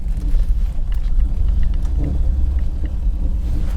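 A cold 1984 Chevy Citation engine running, a loud, close, low rumbling idle that holds steady throughout with no voices.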